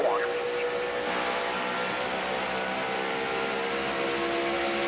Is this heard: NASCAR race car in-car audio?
yes